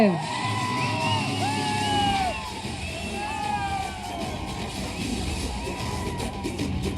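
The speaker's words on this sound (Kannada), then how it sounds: "ಜೋರಾದ ಚಪ್ಪಾಳೆ ನಮ್ಮ ವಿನೀಶ್ ದರ್ಶನ್ ಅವ್ರಿಗೆ." A dense crowd at a Darshan family trailer launch event in Mandya cheers and whoops loudly for several seconds, with yells rising over a steady roar of noise.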